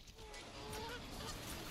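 Honking from a goose in a multiplayer video game, a few nasal honks played close and fairly loud over a faint game background, with no speech.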